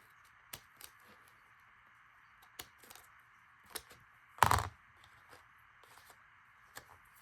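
Scissors cut through cardstock-weight paper in sharp, isolated snips spread across the moment, with one louder, longer crunch partway through, over a quiet steady background hum.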